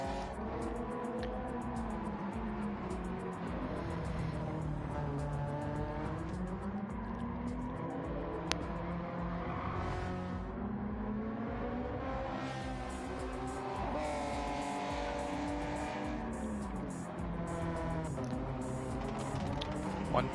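Race cars in a championship series howl through the S corners, their engines rising and falling continuously as they shift and brake through the bends, loud and close throughout.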